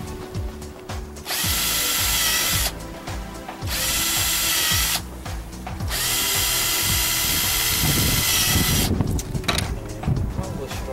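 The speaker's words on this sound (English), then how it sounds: "I can drill all the way through it. This way the drill won't go in and mess up the holes in the fiberglass." A power drill bores through the fiberglass around a boat portlight, running in three long, loud whining bursts separated by short pauses.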